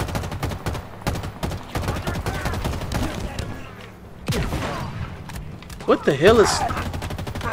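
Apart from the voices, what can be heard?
gunfire shooting at the player in the video game Halo Infinite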